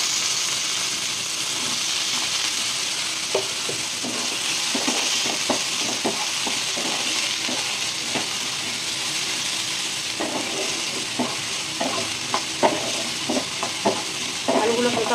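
Potatoes shallow-fried in a pan with lightly browned onions give a steady, moderately loud sizzle, broken by scattered clicks and scrapes of stirring.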